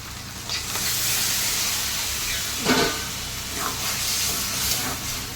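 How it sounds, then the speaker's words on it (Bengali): Water poured into a pan of hot mushroom curry sets off a steady steamy hiss and sizzle, with a brief louder burst of bubbling partway through. "এবার এর মধ্যে আমি জল দেব।"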